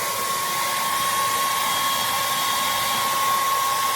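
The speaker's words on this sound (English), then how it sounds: "I need the hair dryer" A hair dryer runs continuously at close range, warming a frozen feeder rodent before a snake feeding. It gives a steady, loud blowing roar with a thin motor whine and no talking.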